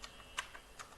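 Faint, quiet clicks of typing on a computer keyboard in a still room, a few scattered keystrokes with one slightly louder tap.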